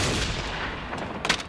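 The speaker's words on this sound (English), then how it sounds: "Sniper attack." A sniper's gunshot rings out in an animated action series, a short sharp crack followed by a brief burst of further impacts, loud and close.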